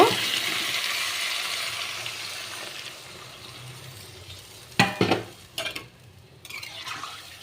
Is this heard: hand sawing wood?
no